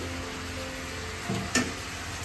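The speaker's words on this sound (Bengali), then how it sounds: "বিরিয়ানির যে চিকেনটা, সেটা আগে তো ম্যারিনেট করে রেখেছিলাম ওভারনাইট, ওটাকেই কষিয়ে নিচ্ছি" Overnight-marinated chicken for biryani sautéing in a pan, a close steady sizzle with two quick stirring clatters near the middle, no talking.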